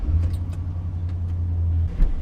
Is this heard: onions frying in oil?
no